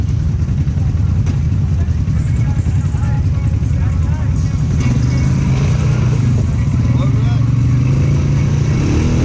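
A stock ATV engine revs steadily and loudly while backing into a deep rut, its low rumble continuous throughout with voices talking over it.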